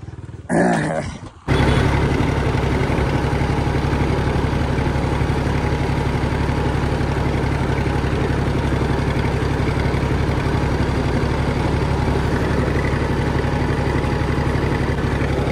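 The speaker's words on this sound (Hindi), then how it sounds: "ट्रैक्टर शॉर्टकट लेके जा रहा हूँ" A tractor engine runs steadily while driving along a shortcut, a loud continuous low throbbing drone close by, preceded by a brief handling noise at the start.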